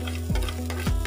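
Milk cream heating in a hot wok for homemade ghee, a close steady sizzle with two distinct scraping strokes of a stirring spoon against the pan, and no talk.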